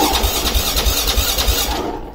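A 2008 Husqvarna TE510 motorcycle with a suspected fuel pump problem being cranked, a loud close squealing whir with a regular pulsing beat that slows and fades out without catching.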